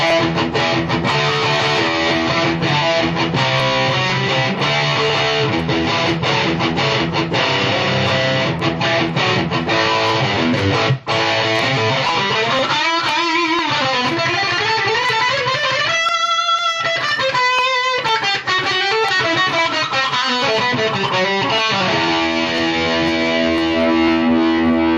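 Distorted electric guitar played through a Crate Stealth amp with the preamp at three quarters and gains at zero, sustained chords and riffs ringing loud and continuous with a British-style crunch, brief pauses near the middle.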